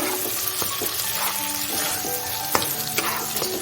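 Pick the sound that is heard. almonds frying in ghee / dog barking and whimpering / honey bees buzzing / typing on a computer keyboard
almonds frying in ghee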